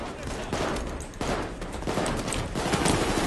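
Shotgun blasts and heavy gunfire rattle through a Payday 2 heist assault, dense bursts stacking over one another for several seconds under loud, constant combat noise.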